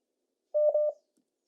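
Touch-tone telephone dialing during a live call-in question and answer broadcast: a short steady run of DTMF keypad tones, two or three beeps running together, clear and fairly loud, with no one talking over them.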